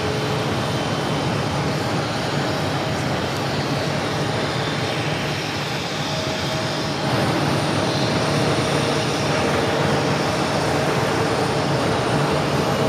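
An Airbus A319 airliner at Phoenix, once a US Airways jet, gives off a continuous droning engine roar at moderate distance that swells slightly louder partway through and stays unbroken.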